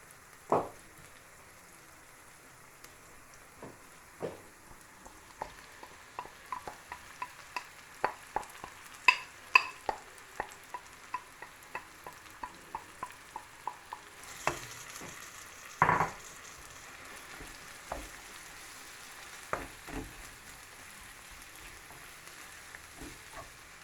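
Spinach goes into a pan of frying onions for briouates and cigares, giving a faint, steady sizzle with a long series of soft clicks and taps from stirring, heard close and without talk.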